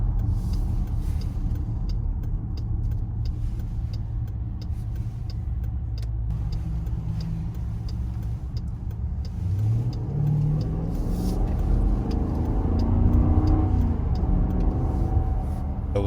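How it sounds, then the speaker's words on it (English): A 2021 Dodge Durango R/T with a louder-tuned exhaust accelerates at quarter throttle in normal mode, its engine note rising steadily in pitch and loudness from a low rumble over several seconds. "That was simply a quarter throttle acceleration in normal mode, not even in sport mode, and you can see that the exhaust has definitely been tuned to be louder."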